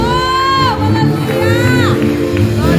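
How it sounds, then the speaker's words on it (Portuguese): A church congregation cheering and shouting together, a dense wash of raised voices and whoops that stays loud throughout. "aplauda o nome do Senhor Jesus"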